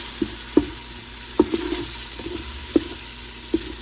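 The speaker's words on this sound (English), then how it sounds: "My garlic is getting sauteed." Ginger and garlic sautéing in an Instant Pot on saute mode, a soft steady sizzle beneath repeated sharp knocks and scrapes of a spoon against the pot.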